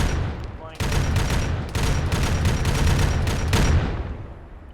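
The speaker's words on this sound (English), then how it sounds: "Gunfire coming from the west." Gunfire in a military video game operation: dense, sustained bursts of rifle and machine-gun fire with repeated sharp cracks, loud and close, continuing almost without pause and tapering off at the end, with faint radio chatter underneath.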